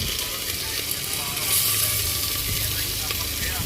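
Chilies and onion fry in a hot pan with a dense, steady sizzle that stays close and loud throughout, unbroken by pauses.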